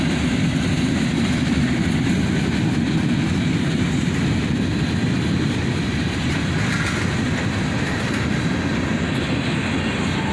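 A CSX freight train led by a pair of GE AC44CW locomotives from 1995 and 1996 rolls past close by. Its loud, steady rumble and wheel noise fill the whole stretch with no break.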